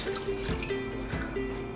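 About 200 ml of water poured into a pot for tempura dipping sauce gives a steady, close liquid splash and trickle throughout, with faint gurgling and no talk.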